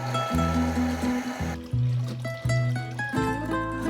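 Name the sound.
water being poured into a jar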